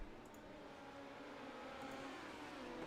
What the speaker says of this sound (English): Sounds like we have cars hitting the track.